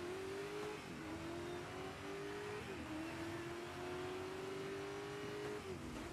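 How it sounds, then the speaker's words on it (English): Racing cars in the video game Dirt 5 played on Xbox Series X: a steady, continuous engine drone with rising revs and brief dips at gear shifts, loud and constant throughout, with no talking. "I do like these cars on Dirt 5."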